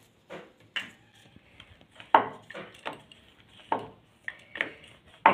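Stuffed spinach puri dough being rolled out with a little oil gives a series of dry wooden knocks and thumps from the rolling pin on the board, irregular and fairly close, with no talking.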